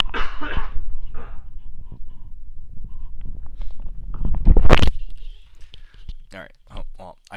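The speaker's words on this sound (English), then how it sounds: "I try to cover up the mic with my hand and cough away from it" A muffled cough bursts out once, close and stifled, amid soft whispered talk and breathing.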